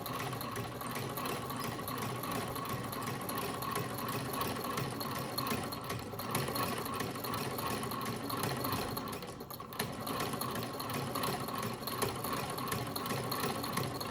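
An old sewing machine needing oil runs steadily while stitching crepe de chine fabric, a continuous rapid mechanical clatter with even rhythm throughout, with one brief slowdown midway and no voices.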